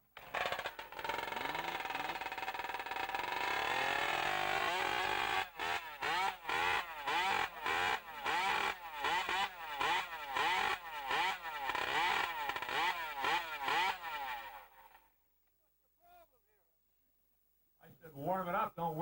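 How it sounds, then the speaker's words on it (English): Chainsaws rev at a lumberjack show on Grouse Mountain near Vancouver, with repeated rapid throttle bursts pulsing in a fast rhythm, loud and close, before dropping to a short silence as the engines idle down. "All right, warm up your saws."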